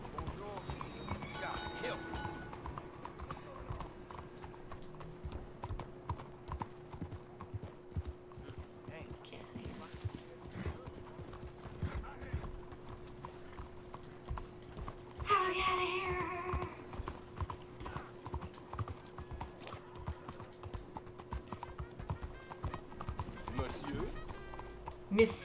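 Horse hooves clip-clopping in the video game Red Dead Redemption 2, a quiet rhythmic trot running through the scene with a steady hum and a burst of louder game noise midway, while a person talks over it.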